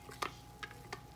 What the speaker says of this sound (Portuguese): E aí vou misturar com o líquido do liquidificador.